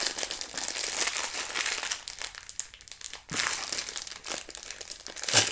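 Loud, continuous crinkling of a plastic McDonald's snack bag being pulled and twisted open, with brief pauses between bursts of rustling.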